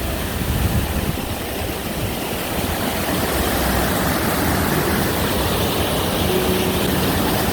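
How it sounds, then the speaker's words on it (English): A waterfall in full, storm-swollen flow near Applecross roars as a loud, steady, broadband rush that continues unchanged, with no voices. "we come across this waterfall."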